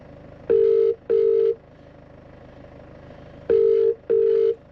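A telephone rings in two double bursts, each pair of short electronic trills separated by a few seconds of quiet room hum.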